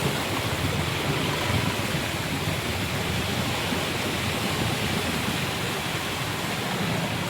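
Floodwater rushing along FT Reyes Street in Malolos, Bulacan, a steady, loud, broadband roar with no pauses and no voices.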